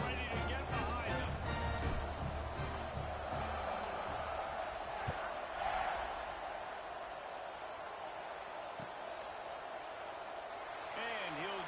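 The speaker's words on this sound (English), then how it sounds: "this crowd now ready to get behind them" A football stadium crowd at Baylor versus WVU roars steadily from a distance, a broad wash of cheering that eases somewhat midway and swells again near the end, with faint voices mixed in.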